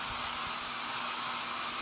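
A dryer blows cold air onto a chalk craft project, giving a steady, even broadband whoosh with a faint constant whine that runs without a break and with no talk.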